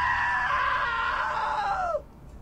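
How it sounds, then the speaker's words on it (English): A long, loud sustained scream from a woman in the game What Remains of Edith Finch, holding steady for about two seconds before dropping away into near silence. "Now that was a great scream."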